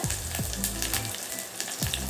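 Steady frying sizzle of green chillies in hot oil, with a few soft stirring knocks, close and continuous throughout, while cooking fish curry.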